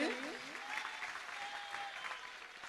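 Steady applause from a crowd at a Jain ceremony in Delhi, many hands clapping continuously at even loudness, with a faint tonal ring in the background.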